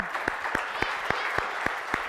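Small group applauding a winning Cub Scout team, scattered sharp claps in a loose, uneven rhythm, brief and moderately loud.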